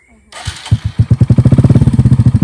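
A motorcycle is started with the key. After a brief silence the engine catches with a few uneven pops, then settles into a loud, rapid, regular idle chug. A voice is audible nearby.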